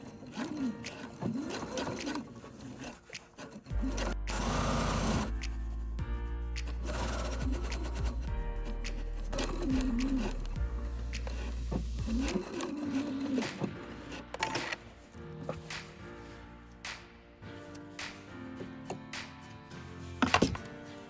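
A sewing machine stitches a jeans zipper seam at 3/8-inch allowance, running in several loud continuous bursts with brief pauses between them, alone with no talking.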